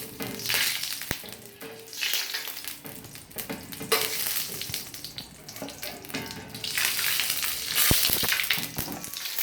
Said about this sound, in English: we melt the lard first on the griddle